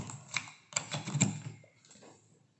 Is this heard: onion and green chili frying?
no